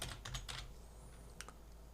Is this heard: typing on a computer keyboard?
yes